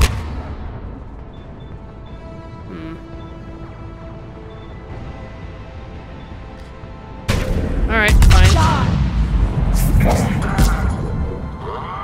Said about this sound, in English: Let's throw a grenade, why not?